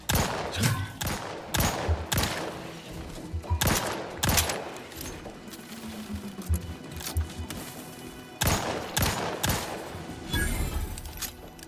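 Gunfire in The Outer Worlds 2, loud repeated bursts and single cracks in quick succession, with a short lull in the middle before the firing picks up again.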